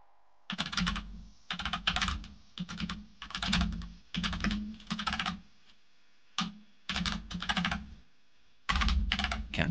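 Computer keyboard typing in fast, loud bursts of clattering keystrokes separated by brief pauses, close and alone without talk.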